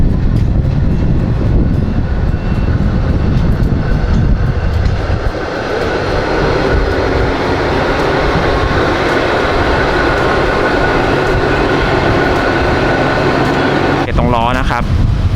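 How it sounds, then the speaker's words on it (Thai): Steam venting from a Thai steam locomotive near its firebox and whistle area: a loud, dense, continuous roaring hiss held for around fifteen seconds, close and steady, with a brief wavering tone near the end. "จะมีไอขาวออกมาเยอะขึ้นเรื่อยๆแล้ว บริเวณวีดก็เช่นกัน"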